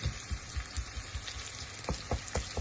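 Carrot and onion fry in a preheated pan for braised cabbage, giving a soft, steady sizzle with low, rhythmic thumps of stirring throughout.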